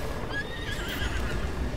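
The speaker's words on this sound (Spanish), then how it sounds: "El caballo se ha cabreado." An angry horse neighs and whinnies in Zelda Breath of the Wild, a loud rising whinny over clip-clopping hooves and game noise, with no speech.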